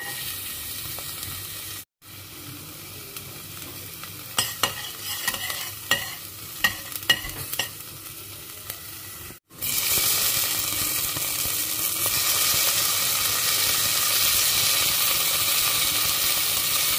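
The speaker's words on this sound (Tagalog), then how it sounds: "Ginisang talong" Eggplant sautéing in a pan in a home kitchen, a steady close sizzle with stirring scrapes and clinks, a brief gap near two seconds, then a louder, hissier frying wash for the rest.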